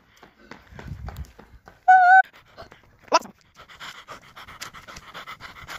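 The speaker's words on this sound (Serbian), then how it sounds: "Evo ga, kuca." A street dog pants and scuffles about close by on a city street, with a sharp whimper, a brief electronic tone and quiet voices in the background.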